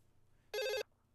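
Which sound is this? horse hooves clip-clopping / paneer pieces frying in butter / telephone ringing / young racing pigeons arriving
telephone ringing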